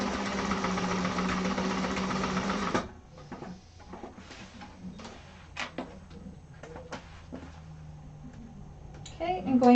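A sewing machine stitches a seam line through bag lining at a class, running as a loud steady mechanical whir for a few seconds before stopping, followed by quieter handling noises, clicks and faint talk.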